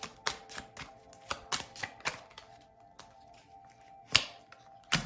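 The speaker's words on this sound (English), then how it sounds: "I'm just going to do a few more shuffles." Tarot cards are shuffled in a run of sharp, irregular snaps and taps, some louder riffs standing out against a quiet room; close and alone, no voices.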